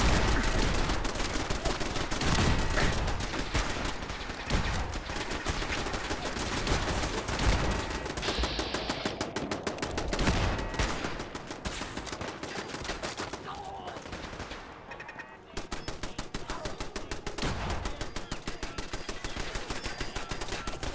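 Rapid, continuous gunfire from the video game Fallout 4 fills the stretch, dense bursts of shots hammering on with only a brief lull near the end before resuming at full loudness.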